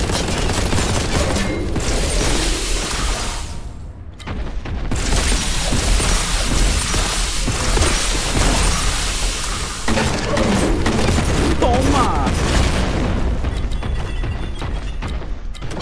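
Dense, relentless gunfire from Warhammer 40k: Boltgun, rapid bursts and heavy booms filling the whole stretch with only a brief lull near the four-second mark, loud and continuous with no talk over it.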